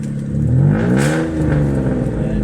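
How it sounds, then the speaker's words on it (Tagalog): A Mitsubishi Galant engine revs hard with a loud, throaty exhaust note, rising and falling over a couple of seconds close to the microphone, with no talk over it. "Lakas ng andar, ang tunog ng tambutso no?"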